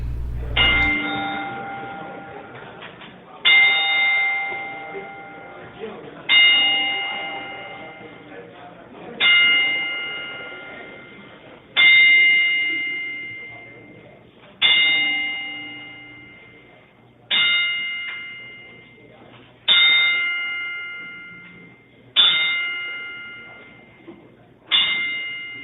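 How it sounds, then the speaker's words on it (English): A ring bell is struck ten times for a ten-bell salute to a fallen wrestler, each loud metallic clang ringing out and fading before the next, evenly spaced and alone in a quiet room. "we'd like to do what we do for every fallen wrestler and do our 10-bell salute to Roderick George Toombs"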